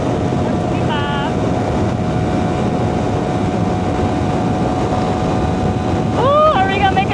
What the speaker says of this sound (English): Crouch down a little bit more so I don't get the wind blasting on my chest